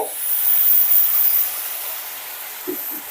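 Water poured into a hot pan of sautéed cluster beans, a loud hissing rush of steam that swells early then slowly tapers off, with a couple of faint clanks near the end.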